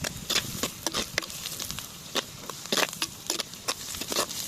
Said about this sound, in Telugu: ఇప్పుడు ఈ ఉల్లిపాయ ముక్కలను వేయించుకోవాలి.